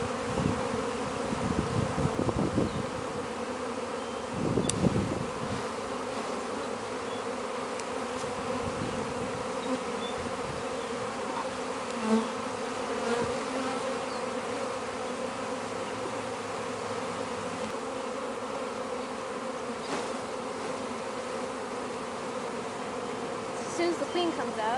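Honey bees buzz around an opened hive during a frame inspection, a steady dense hum close by with scattered louder passes of individual bees.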